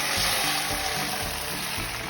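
Coconut milk cooking down in a pan on low heat to make latik, a topping for sapin-sapin: a steady, close, even sizzle and bubbling hiss with no talk over it.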